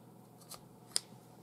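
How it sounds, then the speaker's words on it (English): A pair of scissors snips the ends of paracord on a keychain: two quick, faint cuts, the second sharper, in an otherwise quiet room. "Just take a pair of scissors"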